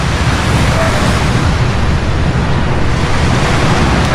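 Sea waves wash continuously onto a shore in a dense, loud roar with wind buffeting the microphone and no clear breaks between surges.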